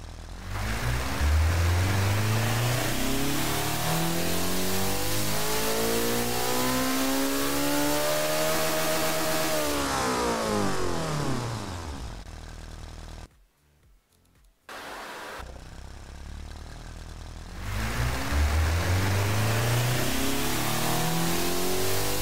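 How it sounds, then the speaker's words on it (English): Simulated 3000-horsepower four-cylinder car engine in the Automation car-tycoon game, revving through long pulls: a loud rising whine climbs, drops off, briefly cuts out, then climbs again. "So now we're going to do two engine pulls, one looking at this beautiful engine"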